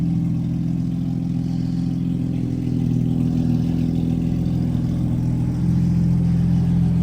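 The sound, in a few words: BMW F8x engine revving with Active Autowerke equal length mid-pipe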